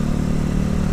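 A Minerva motorcycle engine idles steadily and loud up close, a continuous low rumble with a slight clatter and no voices over it.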